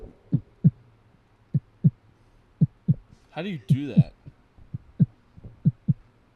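A person vocally imitates a heartbeat with a steady run of low, soft thumps, close to the mic, briefly interrupted midway by another person speaking.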